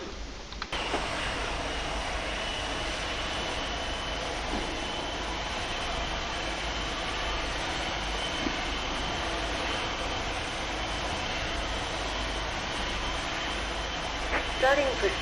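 In X-Plane 11, an airliner is pushed back with its engines running, producing a constant loud turbine roar and rumble with no clear change across the stretch.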